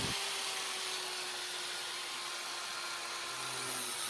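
Angle grinder fitted with a flap disc sanding a wooden surface, a steady close whirring hiss running continuously with no pause and no talk.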